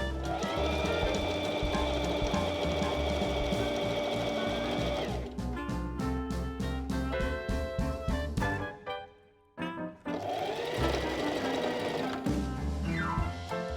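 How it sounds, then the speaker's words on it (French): A domestic sewing machine runs steadily, close and loud, stitching a seam 1 cm from the fabric edge for a braided summer dress, with a brief pause and restart partway through. "On va venir piquer à 1 cm du bord."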